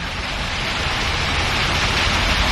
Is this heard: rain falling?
yes